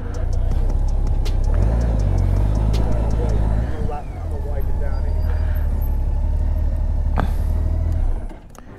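A 2008 Honda Gold Wing GL1800 motorcycle on a test ride, its engine giving a steady, loud drone mixed with road and wind rush. The drone dips briefly midway and then fades at the end.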